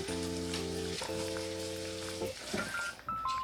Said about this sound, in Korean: 튀기 시작한다.